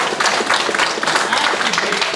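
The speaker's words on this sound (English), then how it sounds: "Give Jake a round of applause" Steady applause from an assembly audience, dense clapping sustained evenly for a couple of seconds without pause.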